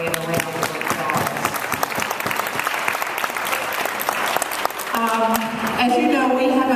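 A crowd at a community unity march applauds with dense, continuous clapping, loud and sustained, with some scattered voices and cheers rising near the end.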